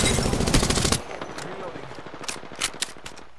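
Rapid automatic gunfire in Apex Legends erupts loudly in a dense burst for about a second, followed by quieter scattered shots and game effects in the background.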